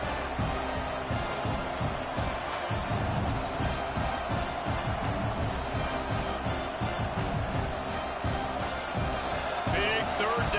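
Stadium crowd noise from a college football video game, Oregon against Washington, rumbles as a constant loud roar through a big third-down play, with play-by-play commentary talking over it.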